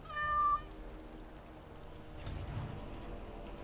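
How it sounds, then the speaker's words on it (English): A kitten in Dragon Age: Origins gives one short, clear meow at the start, then fades into quiet game ambience with a soft rumble later on. "Warden Commander gave Anders a kitten as a gift."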